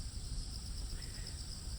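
Crickets chirping steadily in a park lined with reed beds on an early autumn morning, a faint, continuous, high-pitched trill heard alone without talk.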